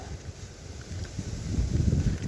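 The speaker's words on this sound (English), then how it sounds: "It is windy today." Gusty wind blows outdoors near a fence line and shrubs by Dunkeld Cathedral, a low buffeting roar that swells stronger toward the end.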